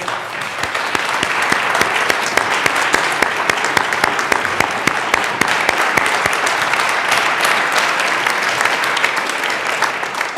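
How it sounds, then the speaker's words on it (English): In the Colorado House chamber, dense and lively applause for a choir of healthcare workers fills the room, many hands clapping close and loud, sustained evenly throughout. "We may want to give them one more round of applause."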